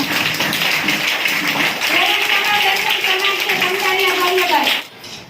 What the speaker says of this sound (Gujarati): તાળીઓ આપણે ચાલુ રાખીએ।